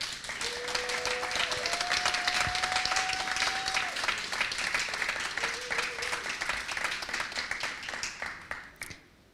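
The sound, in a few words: applause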